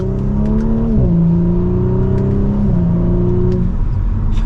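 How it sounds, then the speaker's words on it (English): A 2023 Audi S4 sedan engine drones and revs as it accelerates from second gear, pitch dropping at gear shifts, with a few faint crackles from the upgraded exhaust. "You can hear slight crackles in that upgraded exhaust"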